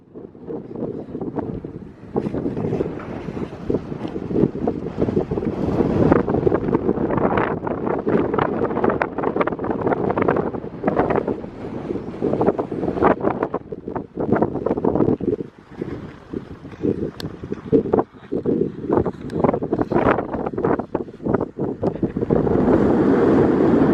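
Strong wind on a mountain top in Snow Canyon, Utah, buffets the microphone with loud, continuous roaring gusts that briefly ease and then return, with no talk.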